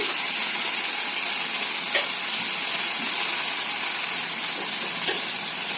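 Beaten eggs going into a hot pan of ridge gourd curry, a loud steady sizzle and hiss of frying throughout with a few faint stirring clinks.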